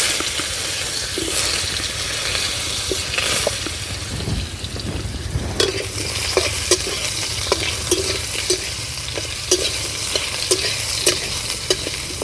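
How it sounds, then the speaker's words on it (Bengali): Potatoes with salt and turmeric frying in a pan for a village-style fish curry, a steady close sizzle with repeated scraping stirs and spatula knocks, no talking. "তাই কিছুটা সময় আমি আলু, লবণ, হলুদ দিয়ে আলুটাকে ভালো করে ভেজে নেব"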